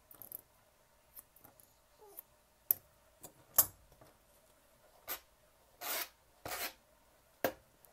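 Scissors trimming a Maltese show dog's coat, with quiet close snips and rubbing strokes in irregular bursts separated by near-silence.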